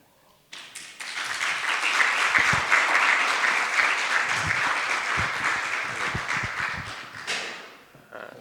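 An audience applauding a guest speaker at a public lecture: a dense, steady wash of many hands clapping swells quickly, holds for several seconds, then fades out, with no voices over it.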